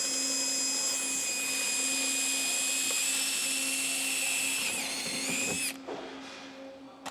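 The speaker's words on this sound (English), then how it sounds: "we want to drill this rivet out" A power drill whines steadily as it bores out a rivet on an upturned Porsche 991.1 Carrera rear bumper, loud and close, with a slight pitch shift near the end before it stops abruptly and leaves a faint hum.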